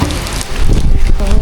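Rain falling on a tropical island, Phu Quoc, a steady broadband wash that stays loud and close for the whole short stretch, with some gusty rumble underneath and a faint voice in the background.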